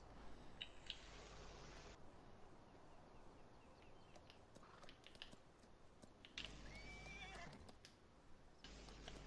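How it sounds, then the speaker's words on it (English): Horses in the farming game Farming Simulator 19 whinny several times over steady clip-clop hooves and a low ambient hum, with the neighs rising sharply in short bursts. "I normally only have 2 horses, but I decided to get 4"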